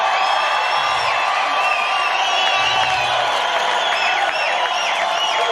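Brazilian crowd cheering at a Gold Coast surf competition, a loud, continuous roar of distant voices and shrill whistling that holds steady throughout.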